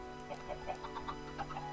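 Minecraft chickens cluck in a video game pen: a string of short, soft clucks repeating about every fifth of a second, moderately near over a steady low background hum.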